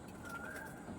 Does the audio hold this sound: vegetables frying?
no